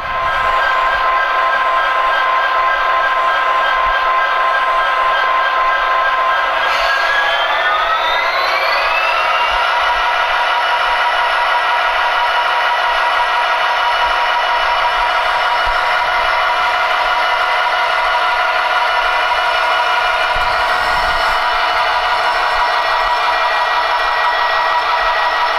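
An Athearn Genesis SD70 model locomotive runs steadily with a constant electronic whine and hum, a tone that bends upward partway through, and a light rattle beneath, with no talking.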